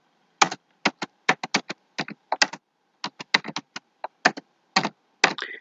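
Crisp keystrokes on a computer keyboard typing a short word in bursts of rapid taps separated by brief pauses, close and clear with no voices.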